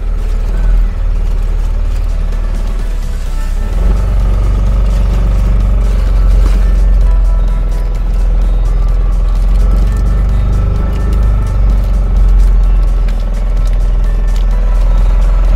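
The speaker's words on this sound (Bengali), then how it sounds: "আমাদের জার্নি শুরু হচ্ছে, টোটাল 10টা প্লেস। তো এই হচ্ছে বোট আমাদের।" A tour boat engine on the Kerala backwaters near Poovar Island, a loud, steady low rumbling drone running continuously throughout.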